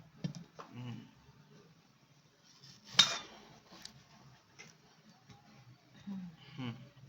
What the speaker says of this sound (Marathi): आंबा आपण कापून बघू कसा